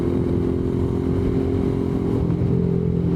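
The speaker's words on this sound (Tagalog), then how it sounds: "may motor sa gilid" A motorcycle passes alongside on the road, its engine a loud, steady mid-range drone that stays close and continuous for the whole stretch, with no talking.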